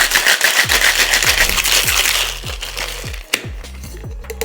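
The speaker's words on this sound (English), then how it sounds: "Now add ice to the shaker and shake for about 10 to 15 seconds." Ice is shaken hard in a cocktail shaker for a margarita, giving a loud, dense rattle up close that thins into a few separate clinks near the end.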